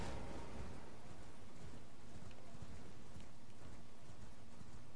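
Hoofbeats of a galloping horse in Elden Ring thud along steadily beneath a constant rushing, rumbling background, with no one speaking.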